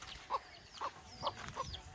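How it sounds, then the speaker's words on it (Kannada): Backyard village hens give four soft, evenly spaced clucks over faint outdoor background, with no voices. "ನಮ್ಮ ಚಿಕ್ಕಮ್ಮ ಸಾಕೊಂಡಿದ್ದಾರೆ ಕೋಳಿನ"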